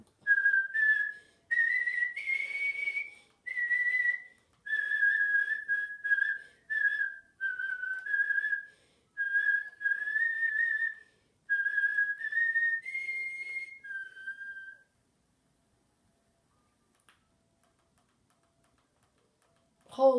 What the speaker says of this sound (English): I know how to whistle it better.